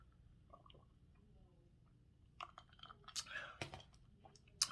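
Soft chewing of a low-carb keto bread sandwich with onions, lettuce and cheese, quiet moist bites and mouth clicks close to the microphone, growing a little louder toward the end.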